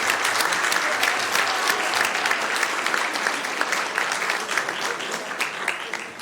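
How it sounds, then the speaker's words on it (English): A standing crowd at a Sacramento City Council meeting in City Hall applauds students: sustained, loud, dense clapping from many people, holding evenly throughout without a break. "give everybody a round of applause"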